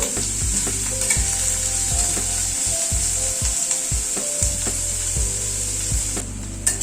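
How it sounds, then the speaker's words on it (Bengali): Onion fries in a pan over a medium gas flame, a steady loud sizzle with repeated scraping stirs of a spatula at irregular intervals, close up and without talking. "গ্যাসের ফ্লেমটাকে মিডিয়ামে রেখে পেঁয়াজটা হালকা করে প্রথমে ভেজে নেব।"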